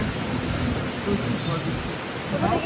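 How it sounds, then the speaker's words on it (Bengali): Heavy storm rain at Bangur Hospital in Kolkata pours in a dense, steady hiss on surfaces, continuous and fairly loud with a faint low rumble beneath. "প্রচুর ঝড় বৃষ্টির মধ্যে আমরা আটকে পড়েছি।"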